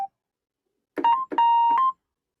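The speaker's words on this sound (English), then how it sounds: "we get another synth sound, if you like a mono synth sound" Mono synth sound from a keyboard in a song's chorus: a short blip, then two brief sustained bright notes with a quick grace-note slide, clean and close against silence.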